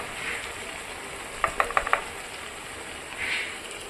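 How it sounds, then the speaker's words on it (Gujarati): Onions, tomatoes and capsicum sauté in a pan for a cashew paneer masala gravy, a steady low sizzle broken by a quick run of sharp spoon clicks against the pan. "ડુંગળી ટામેટાં અને કેપ્સિકમ સંતળાઈ જાય"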